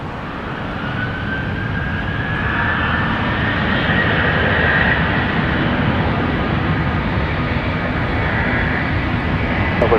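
A Southwest airliner takes off from runway 31 right at Dallas Love Field, a steady, loud jet engine roar that builds slightly and holds for the whole stretch, with a faint rising whine riding on top.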